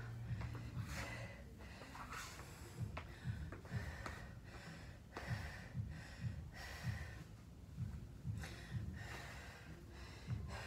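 After a burpees workout, a person pants heavily in rhythmic, rasping breaths, close and steady, with no speech.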